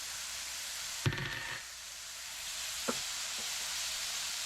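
Leftover refried beans hit a hot pan on lowered heat, giving a steady faint sizzle with a brief louder crackle near the start and a couple of small pops later.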